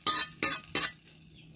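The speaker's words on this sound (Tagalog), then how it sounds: "So ilagay natin yung ating ginisang bawang" Garlic sautéing in a pan is stirred in three quick, crisp scrapes, each followed by a soft sizzle, with a fourth stroke starting at the end; nobody speaks.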